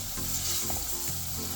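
Semolina roasting in a pan for sheera prasad, a continuous close sizzle and gentle stirring scrape, steady and fairly soft, with no talking.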